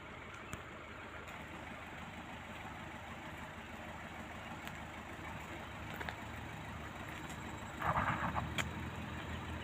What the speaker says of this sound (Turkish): çok arabalar gelip gidiyor